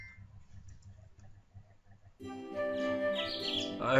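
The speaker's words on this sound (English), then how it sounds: "I heard sparrows chirping from outside of my window." Sparrows chirp outside a window in the game Da Capo 2, as bright twittering calls that come in close after a quiet start. A faint ticking pulse runs underneath.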